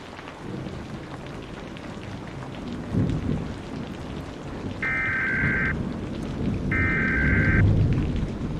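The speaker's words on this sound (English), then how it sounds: "A storm rolled in out of nowhere today." Steady rain pours through a thunderstorm, with low rumbling thunder swelling around the middle and end, heard over a radio broadcast with two brief electronic tone bursts and no talking.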